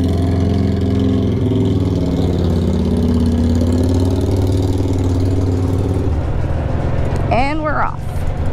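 A Honda mini bike engine runs continuously, a loud, close, droning idle with slight rises in pitch, and a voice speaks briefly near the end.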